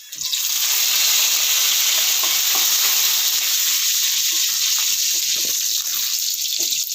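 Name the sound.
dried red chillies and curry leaves sizzling in oil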